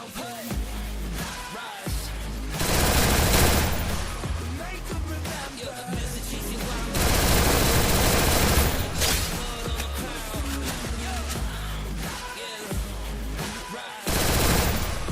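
Rapid MP40 submachine gun fire in the Free Fire battle royale game, dense loud bursts crackling in quick succession with brief gaps, over busy in-game sound.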